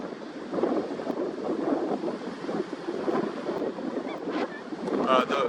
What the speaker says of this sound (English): give you actually the ability to hear the wind a little bit